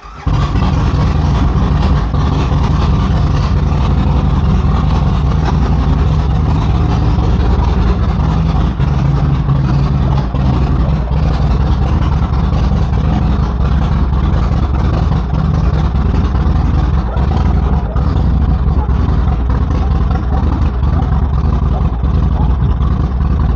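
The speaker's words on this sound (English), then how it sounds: "now you can fire the bike up and go for a little ride" A motorcycle on a Dynojet setup running steadily, a loud, continuous low engine rumble close by for the whole stretch, with no clear revving change.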